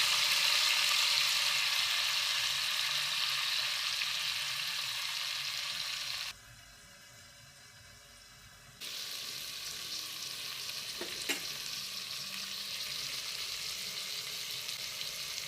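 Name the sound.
frying spring onion leaves with cumin seed tempering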